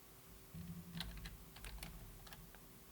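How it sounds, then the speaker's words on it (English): Quiet, close clicking of keys on a computer keyboard as a terminal command is typed, a short irregular burst of taps over a low steady hum. "we want to type in the command Vale"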